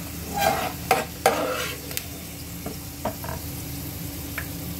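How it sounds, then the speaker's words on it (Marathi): Semolina roasting in ghee in a pan for Konkan-style jaggery lapsi, a soft steady sizzle with a few sharp scrapes and clinks of a spoon stirring early on, then quieter frying. "त्याच तुपामध्ये आपण हा लापसीचा रवा छान भाजून घेणार आहोत"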